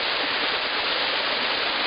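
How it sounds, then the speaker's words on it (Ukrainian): Spring-clear small waterfalls of the Maryanchyni falls pour in a steady, close, full rush of water that holds level throughout, with no voices. "Джерельно чисті водоспадики."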